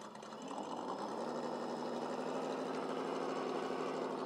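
Small RC car motor on a car-hauler trailer outing, bogged down in wet grass, running as a continuous buzzing whine that rises slightly at the start and then holds steady and fairly close.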